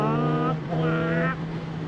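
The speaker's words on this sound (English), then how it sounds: "The sound that comes out of this engine is like a symphony" Exhaust note of a 2016 Yamaha R6 motorcycle engine: a loud, close, steady tone with strong harmonics that swells and rises briefly, as in a short rev, then settles back.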